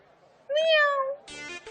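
A person imitates a cat's meow in a scene from the Hindi show Pyaar Tune Kya Kiya: one rising-then-falling vocal meow, fairly close and clear, followed by a short burst of another voiced sound.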